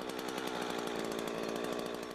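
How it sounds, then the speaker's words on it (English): A Husqvarna chainsaw cuts steadily through a tree trunk during felling, its engine droning loud and close with a fast, even rasp that never lets up. "Saw until you have enough room to push in a breaking bar"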